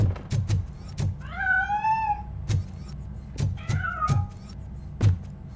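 A cat in the video game RoboCop: Rogue City meows twice, drawn-out and wavering, amid scattered sharp knocks and thumps against a quiet background.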